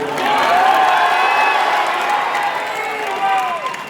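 A large crowd at an Amit Shah election rally in Motihari, Bihar, cheering and applauding loudly in a sustained roar, with voices shouting through the clapping.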